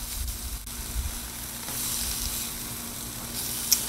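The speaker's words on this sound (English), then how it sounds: "we'll put our eggs on" Eggs frying on a Blackstone 22-inch griddle give a steady, close sizzle that fills the clip with a broadband crackle and no talk.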